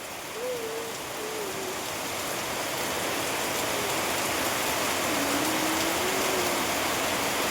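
Steady rain falls outdoors in a soft, even hiss that grows slightly louder, with a few faint, low hooting calls rising above it from a distance.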